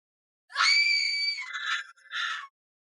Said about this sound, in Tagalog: Napasigaw siya sa sobrang gulat.